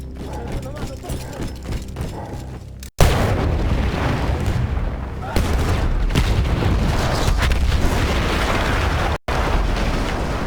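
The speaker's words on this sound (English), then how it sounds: "That explosion was one of the sweetest sights of the war for me." An enemy gun is blown up in Battlefield 1 with a loud, rumbling explosion and crashing blasts, thick with roaring debris and battle noise, after a short sudden break in the din.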